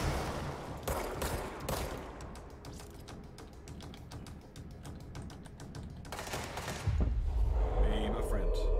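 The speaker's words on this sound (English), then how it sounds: "Stop shooting me." Rapid gunfire from enemies shooting at the player in the video game Control, a dense run of sharp cracks and bursts with mechanical clatter under a game soundscape, louder toward the end while a person talks over it.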